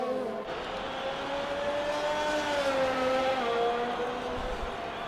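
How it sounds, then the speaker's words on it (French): Race car approaching the last corner of a sim-racing lap in Hungary, a continuous loud engine note that rises and dips in pitch through gear changes and the turn, with no talk over it. "Et on a Fayard qui arrive dernier virage"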